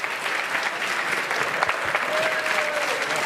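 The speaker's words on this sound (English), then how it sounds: "the well-deserved round of applause starts to come in for Leo Margette." At the 2025 WSOP Main Event final table, a poker audience breaks into steady, moderately loud applause that fills the room, with a faint tone drifting through near the end.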